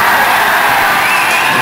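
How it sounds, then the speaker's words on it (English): Wrestling audience at a DWF/Loco Jr. Heavyweight Championship match cheering loudly, a dense roar of whoops and yells filling the space throughout. "The crowd is actually behind him."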